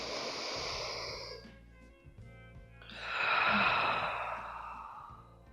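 A slow, deep inhalation during a guided breathing exercise, soft and close, followed by a fuller, breathier draw of air that swells and fades, with no talking.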